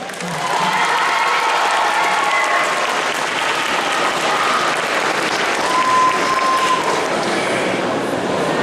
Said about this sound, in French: C'est une du coin, donc on l'applaudit un petit peu plus fort que ça.